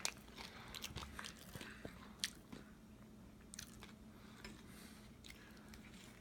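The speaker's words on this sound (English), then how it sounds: "The outside crust's got a nice crunch to it" Bites into crunchy deep fried food with a crisp outer crust, giving a series of sharp crunches followed by quiet chewing, close to the microphone with no talking.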